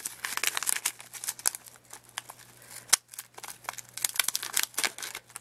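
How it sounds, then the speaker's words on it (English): Scallop scissors snipping through a brown paper bag, a quiet, close series of irregular crisp cuts and papery crinkles over a faint steady hum, with one sharper snap midway. "I'm just cutting my flap to the shape that I want"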